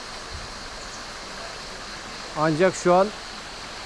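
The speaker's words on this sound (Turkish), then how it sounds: "Buraya adını veren şelale bu." A low-flowing waterfall at Uçansu in dry summer gives a steady soft rush of falling water throughout, with a person briefly talking over it near the end.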